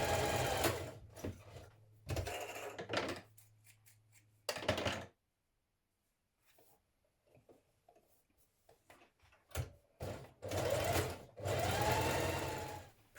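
A sewing machine stitches two uninterfaced vest pieces together at the back neck, its motor whirring in several close bursts of a second or two each, separated by quiet gaps and soft handling noises.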